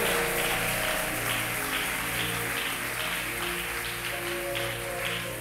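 A church congregation at a Sunday service claps in praise, a steady patter of hands over sustained musical tones and hum, with no clear voices.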